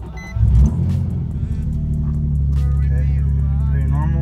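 A Nissan 350Z engine idles right after its first startup with a newly fitted eBay cold air intake, a loud, steady low rumble that catches briefly at the start, then settles into an even drone with a voice speaking over it.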